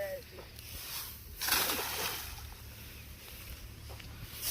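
Water splashes and sloshes as it floods a farm field, a steady rushing wash with a louder surge partway through, while people talk nearby.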